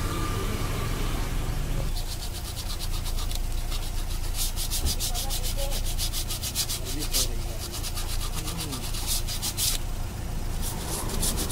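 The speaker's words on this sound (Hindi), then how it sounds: "पीछे का पॉलिश पेपर मार के अच्छे से साफ करके इसे फिट कर दीजिए" Polish paper scrubs a Hyundai i10 engine part clean during a full service, a close, continuous rhythmic rubbing and scraping that runs steadily throughout.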